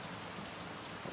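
Light rain drizzles outdoors in a steady, even hiss of fine drops, soft and continuous with no voices.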